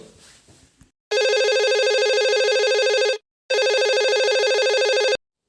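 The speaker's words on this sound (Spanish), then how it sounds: "Tenemos otra llamada en la línea." A telephone rings with an incoming call during a radio show. There are two long electronic trill bursts, loud and close, with a short gap between them and faint background sound just before.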